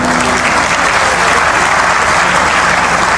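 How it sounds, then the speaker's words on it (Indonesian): Sustained applause from an audience honouring the mayor at a Christmas celebration in Surabaya, steady and dense throughout with no break. "Kita sungguh hormat, salut, aplaus untuk Bapak Wali Kota"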